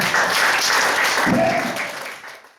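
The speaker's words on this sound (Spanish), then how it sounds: "Dale un fuerte aplauso al Señor." A church congregation breaks into brief, loud applause that holds for a moment and then fades away quickly.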